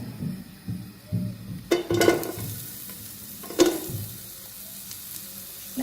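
Salt tossed into a large pan of hot oil for a Sri Lankan crab curry fries with a soft steady sizzle, broken by a few louder stirring scrapes of a utensil against the pan.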